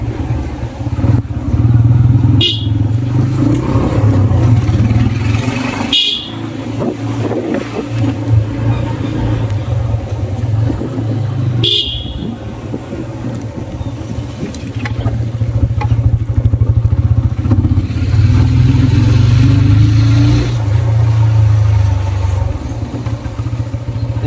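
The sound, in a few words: motorcycle engine in first gear, throttle being released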